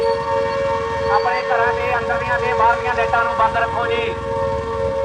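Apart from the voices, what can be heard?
siren sounded during blackout announcement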